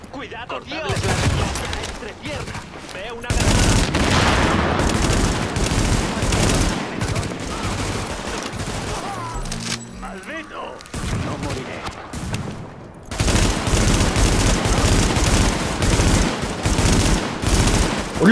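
Rapid automatic gunfire crackles in bursts during a match of the video game The Division, loud sustained volleys broken by a short lull midway, with a player talking in between.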